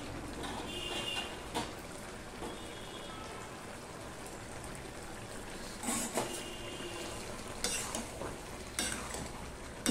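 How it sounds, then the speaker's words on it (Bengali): Coriander leaves are stirred into a spiced dish frying in a pan, with a steady close sizzle broken by scraping stirring strokes and no talking. "ধনেপাতাটা দিয়ে আমি সম্পূর্ণ মিশিয়ে দিলাম"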